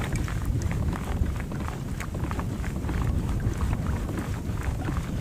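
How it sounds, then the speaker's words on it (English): Wind buffets a fishing boat out on open water, producing a constant rough rumble of gusts against the microphone, mixed with choppy splashing and knocking throughout. "This wind is messing with me big time."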